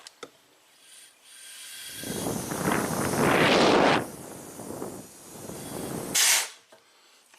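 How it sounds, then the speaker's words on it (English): Compressed air hisses out through pinhole leaks in a car A/C condenser on a 1991 Audi 200 Quattro, with loud bursts of rushing air that swell and fade in waves before a last sharp spurt. "If I put a little compressed air in the bottom port"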